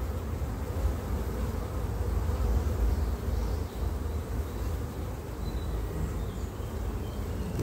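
Honeybees buzz steadily at an open hive frame holding emerging brood, eggs, nectar and pollen, a dense close-up hum that stays even and continuous throughout.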